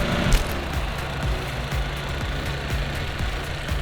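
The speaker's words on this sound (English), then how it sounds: "The mower does not want to go through this section right here." A Toro Greensmaster 1600 reel mower runs through long, dry grass, its engine holding a steady close drone with quick, regular ticking from the reel.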